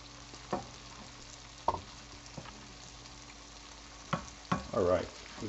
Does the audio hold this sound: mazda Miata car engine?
no